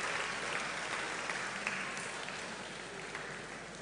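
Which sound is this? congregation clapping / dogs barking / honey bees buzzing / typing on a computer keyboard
congregation clapping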